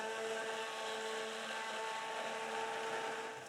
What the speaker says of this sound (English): I think I'm going to blend it just a little with the stick blender just to get it to a thicker trace